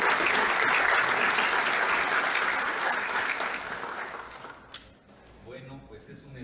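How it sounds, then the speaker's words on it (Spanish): Audience applause at a conference in Lagos de Moreno, a dense, steady roar of clapping from a large crowd that holds for several seconds, then thins and fades out toward the end. "Vamos a darle un aplauso y comenzamos la categoría."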